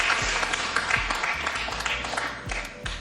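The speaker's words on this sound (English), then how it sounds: "That brings a smattering of applause." A smattering of applause and scattered clapping from a crowd watching Efren Reyes play a billiards match, steady and moderately loud, with a few sharper claps standing out.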